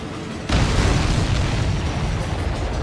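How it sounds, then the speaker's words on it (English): An enemy aircraft explodes in a combat flight video game, a sudden loud boom at about half a second that rolls into a sustained, dense roar of blast and debris lasting to the end. "Did you see that explosion?"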